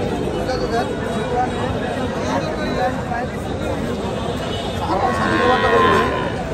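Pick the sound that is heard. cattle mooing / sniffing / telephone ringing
cattle mooing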